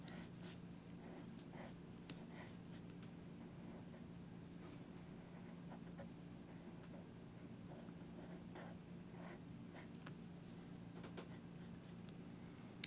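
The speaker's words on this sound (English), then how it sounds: "go in with his either his black wing or his turquoise pencil and just hit it just right" Pencil sketching on paper with a Blackwing or turquoise drawing pencil, a soft continuous scratchy graphite hiss with light strokes and short accented scrapes running throughout, close and steady with no talking.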